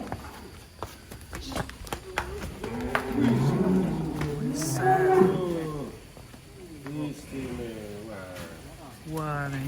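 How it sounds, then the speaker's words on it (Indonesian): A giant cow just unloaded from a truck, brought from Ponorogo to a rural pen, lets out drawn-out, wavering moos at close range amid scuffling hooves, while people talk excitedly nearby. "Sapi baru kandang pedalaman nih."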